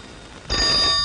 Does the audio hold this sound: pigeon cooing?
no